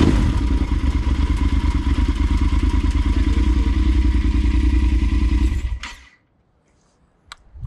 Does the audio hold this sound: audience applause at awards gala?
no